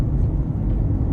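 A cammed 2016 Chevrolet Corvette Z06 with a heavily modified exhaust rumbles loud and deep, a steady low-end drone filling the whole brief stretch without breaks.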